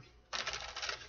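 A brief, crisp riffle of tarot cards being shuffled, close and quiet, starting after a short pause and running for under a second.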